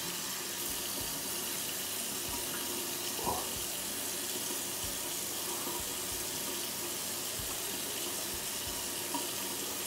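Tap water runs steadily into a sink during a face wash, a constant soft hiss across the whole stretch with a few faint splashes and no talk.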